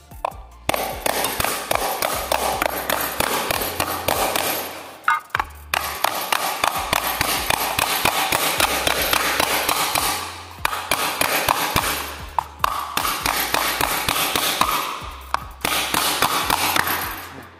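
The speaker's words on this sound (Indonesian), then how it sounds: "Kita akan melakukan awalannya terlebih dahulu menggunakan palu kayu atau palu bola kayu" Steady, rapid hammering with a wooden mallet on an aluminium sheet being hand-formed into a half sphere, the blows coming in dense runs with a few brief pauses, loud and close.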